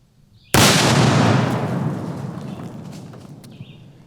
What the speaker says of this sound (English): we're just gonna rapid fire through a bunch of different targets